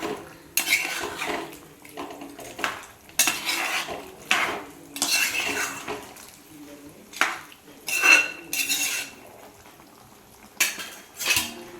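Chicken dhopyas with fried shallots is stirred in a pan, a metal spoon scraping and clanking in repeated bursts over a light sizzle, close and fairly loud, with no talking.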